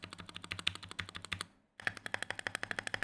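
Typing on a compact gaming keyboard with gasket mounting and silicone dampening: quick, even, muted keystrokes close up, pausing briefly before a steady run of clacks resumes.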